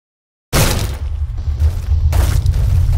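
Grenades blast in the S.T.A.L.K.E.R. shooter game, bursting out of silence as a heavy, booming detonation with a deep rumble, followed by a second blast about a second and a half later over continuing low roar.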